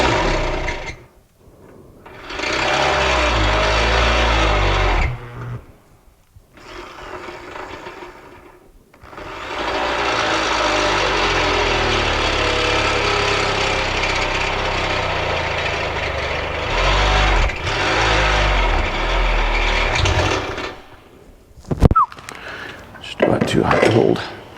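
A weak, overheating electric drill cuts into the steel chassis of a 1970 Dodge D100 pickup, its motor whining in long sustained runs broken by short pauses, loud and close, with someone talking in between.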